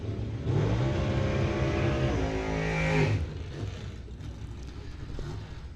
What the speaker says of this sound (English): side-by-side burnouts there completed for Tom Jameson and Troy Salazar